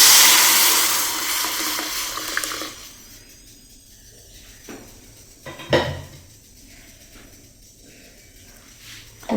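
Boiled tuvar dal poured into a hot tempering in a Gujarati kitchen, giving a loud hiss and sizzle at the start that fades to a quiet simmer, with a few close clinks of a pan and utensil afterward.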